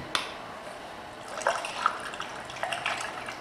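Electrolyte rinse water drains out of a dead car battery through a funnel as a faint, steady liquid trickle with a few soft splashes, close by.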